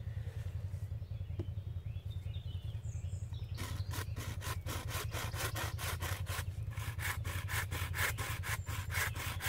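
After a brief quiet start, a frame saw cuts through wood in fast, steady back-and-forth strokes, rasping loudly and close up.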